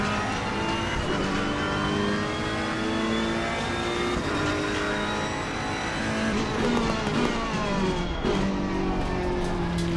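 A Ferrari 488 Evo race car engine at Imola in Assetto Corsa Competizione howls loud and close, its pitch climbing through the gears and dropping under braking into a chicane, with brief tire squeal.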